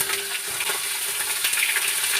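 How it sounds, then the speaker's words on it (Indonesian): Food fries in a pan, a continuous bright sizzle with small crackles and occasional stirring, steady and close, with no talking. "Kalau goreng kan kayak gini"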